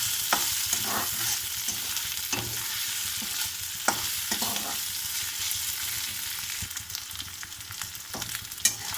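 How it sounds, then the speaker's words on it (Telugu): Okra stir-fried in a pan, with a steady sizzle and repeated scraping strokes of a spatula throughout, close and fairly loud, no talking. "ఈ బెండకాయలు కూడా వేసేసుకుందాము."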